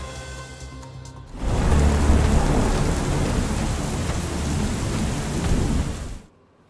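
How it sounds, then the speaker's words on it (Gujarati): Heavy monsoon rain with thunder across Gujarat: a dense, loud roar of downpour and rumbling thunder bursts in after a quieter opening, holds steady and then cuts off abruptly near the end. "મેઘરાજાએ રીતસર ધડબડાટી બોલાવતા 158 તાલુકામાં નોંધપાત્ર વરસાદ થયો છે"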